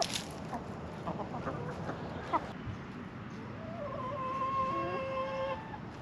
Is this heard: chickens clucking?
yes